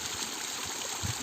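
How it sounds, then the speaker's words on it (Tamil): A small waterfall at a village farm pours in a steady, broadband wash of falling water that stays fairly constant throughout, with soft low splashes near the end. "இங்கே பாருங்கள், குட்டி அருவி எப்படி இருக்குது."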